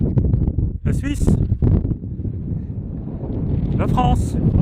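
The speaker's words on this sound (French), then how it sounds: "Il y a toujours du vent ici, il y a un vent de dingue là." Strong gusts sweep across the Col de Balme mountain pass during a trail race, a heavy rumbling roar of wind against the microphone, with a person speaking briefly over it.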